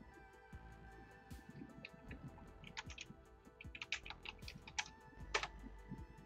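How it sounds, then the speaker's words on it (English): Quiet keystrokes on a computer keyboard patter in irregular bursts as a name is typed, close and soft, with no talking. "I've typed the name."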